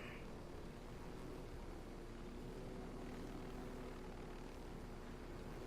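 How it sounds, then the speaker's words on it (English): An enemy Unidad helicopter flies in Ghost Recon Wildlands, a steady, faint rotor drone humming evenly in the distance with no talk over it. "I see a Unidad chopper up there. If this chopper had guns, I'd go after it."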